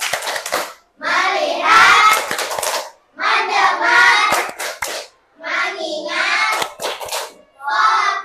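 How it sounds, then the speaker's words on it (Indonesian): A class runs through the 'tepuk fokus' clapping routine, children chanting in rhythm in bursts with short pauses between phrases; the clapping is not clearly separable from the chanting. "Oke, tepuk fokus."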